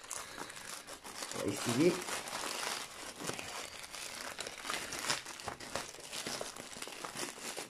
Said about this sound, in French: J'ai oublié mon ciseau, mais c'est pas grave, on va l'ouvrir à la main.